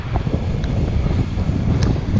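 Strong monsoon wind sweeps across the Tungabhadra river backwaters near Ramapura, roaring and buffeting a nearby microphone in a loud, continuous rush.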